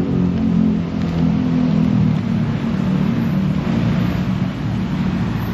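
A Ford Raptor pickup engine runs at a steady idle, a loud continuous low rumble with a constant drone and no pauses.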